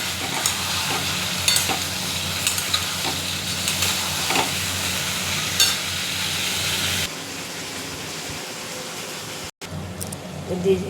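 Vegetables are stirred into an oily Bengali fish curry in a hot pan, giving a steady sizzle and hiss with repeated scraping stir strokes that carries on close and clear, then turns quieter near the end.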